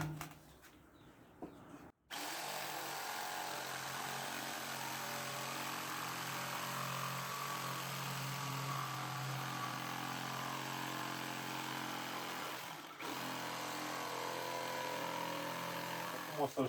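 A power saw cuts through a wooden chair leg traced from its match, a steady loud whine running continuously for about eleven seconds after a brief start, with faint handling noise around it.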